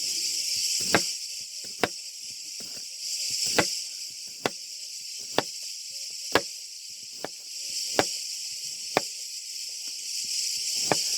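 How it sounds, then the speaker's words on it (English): Steady high-pitched cicada drone fills the background, with sharp knife chops on a board cutting cucumber ticking irregularly over it. "You can hear the cicadas in the background."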